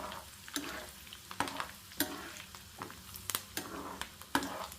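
Crushed garlic and curry leaves fry in a hot oil tempering, a soft steady sizzle punctuated by repeated sharp clicks of a spoon stirring against the pan.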